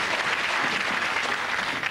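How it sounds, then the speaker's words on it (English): A television studio audience at a game show breaks into a short burst of dense, steady clapping, close and even throughout. "I think a bit of applause."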